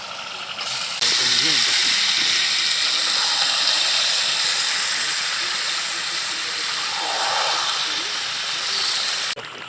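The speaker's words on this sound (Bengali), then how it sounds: "দেখুন এবার মাংসটা ঢেলে দেবো" Chicken from a 5 kg bird is tipped into hot oil in a kadai while cooking in a village, setting off a sudden loud, close hissing sizzle that stays dense and steady, with a voice briefly underneath.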